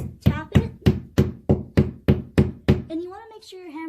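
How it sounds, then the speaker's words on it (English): Nine evenly spaced, firm taps of a hammer knock sharply one after another, close up, tapping a plastic anchor into drywall, followed by someone speaking. "And then use your hammer to barely just tap it."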